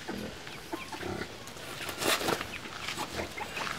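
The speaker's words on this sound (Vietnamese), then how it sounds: "Ôi không, con gà." Chicken clucking and squawking at close range, a bird that seemed carsick after a ride, with rustling and handling noise around it and a louder flurry midway.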